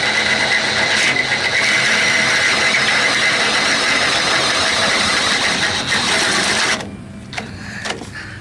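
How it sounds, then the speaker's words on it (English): A weak, low-power electric drill widens holes for a spindle mount, its motor whining steadily and close for several seconds before cutting off abruptly, leaving faint clicks and handling noise. "This is like a no power drill."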